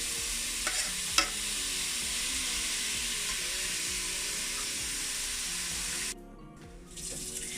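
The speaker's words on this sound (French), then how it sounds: "Donc je tourne. Voilà, on mélange bien, il faut bien mélanger." A spoon stirs basmati rice in a frying pan, scraping steadily over a continuous sizzle, with a couple of sharp knocks early on and a brief drop in the hiss near the end.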